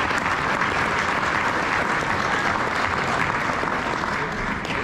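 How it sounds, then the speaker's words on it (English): Sustained, dense audience applause for Jake Ray at a father-son steak fry, loud and steady from start to finish, with a faint crowd murmur beneath. "So how about a round of applause for Jake Ray?"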